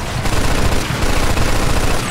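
Dense, continuous automatic gunfire and overlapping shots roar throughout a Mafia 2 wartime battle scene, loud and unbroken, with no voices heard.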